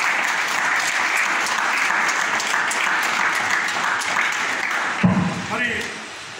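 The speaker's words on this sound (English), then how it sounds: "Give him a big clap." Big round of audience applause at a felicitation ceremony for a junior world champion in 25m sports pistol, dense steady clapping that cuts off near the end, with some talk mixed in.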